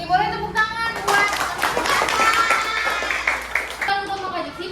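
Children in a classroom clap their hands in a burst of quick claps, close and loud, with young voices speaking over and around the clapping.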